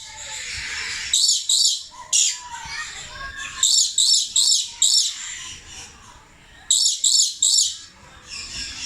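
Sharp, shrill brown lory screeches come in repeated bursts of two or three, close by, with chatter and zoo aviary background between them.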